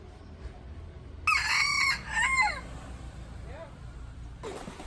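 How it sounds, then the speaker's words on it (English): A rooster in Ben Tre, Mekong Delta, Vietnam, crows loudly once nearby, a long wavering call, followed by a fainter second crow further off over quiet outdoor background. "Back to the rooster."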